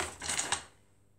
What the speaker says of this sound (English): I'm going to just cut all these roots off.